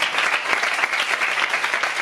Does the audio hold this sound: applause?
yes